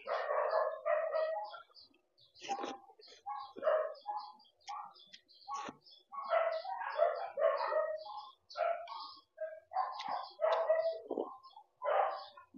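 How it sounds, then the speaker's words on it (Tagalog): Several dogs bark angrily in a rural Batangas yard, with repeated sharp, overlapping barks and yelps in irregular bursts across the whole stretch, fairly close and loud. "Galit na galit ang mga aso."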